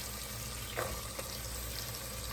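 Potatoes dropped into a pan of vegetables frying for khichdi, a soft steady sizzle with a brief clatter as the pieces go in, fairly quiet and without talk.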